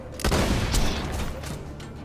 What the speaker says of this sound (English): you want to shoot the Flakker and then swap the weapon